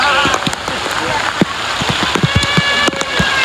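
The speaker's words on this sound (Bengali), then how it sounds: "আমরা এখন চলে আসছি বৃষ্টির ভিতরে" Rain pours down steadily outdoors in a village, a dense close hiss with scattered sharp drops striking surfaces, loud and continuous throughout.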